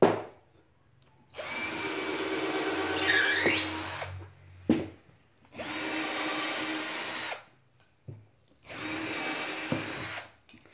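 A 12V QFC1012-25N cordless drill whines loudly with a dull bit, in three sustained bursts separated by short pauses, close and alone with no talk.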